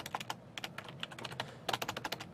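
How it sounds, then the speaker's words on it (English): Fingers typing on a computer keyboard at close range, quick uneven clusters of crisp key clicks with short pauses between bursts, no voices. "Getting end of the day, typing skills diminishing."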